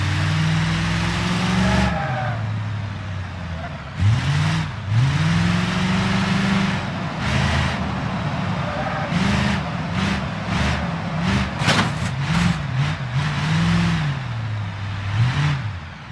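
A car in the BeamNG driving game revs its engine repeatedly, a loud close engine note rising and falling in pitch with gear shifts, followed by a rapid series of sharp revving bursts near the end.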